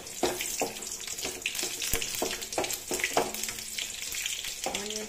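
Onions sizzle and crackle in hot oil for a brinjal curry, a steady loud fry with repeated stirring scrapes and clinks throughout.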